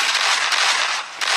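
Gunfire in a shooting video game, a loud, bright, crackling burst of rapid shots with a brief dip before another burst near the end.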